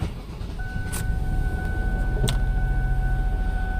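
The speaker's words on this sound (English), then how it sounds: "Alright, now we'll start the car up." Ford Taurus with a broken motor mount, heard from inside the cabin with the window up: a couple of sharp clicks, then the engine catches and settles into a low, steady idle hum beneath a faint chime tone.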